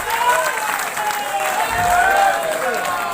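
An audience at a BJP state executive meeting applauds to welcome Uttar Pradesh deputy chief minister Keshav Prasad Maurya, a sustained roomful of clapping that swells slightly midway, with some crowd noise mixed in.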